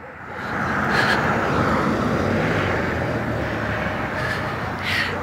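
A steady, droning engine rumble of a police helicopter passing overhead and holding nearby, with no talking.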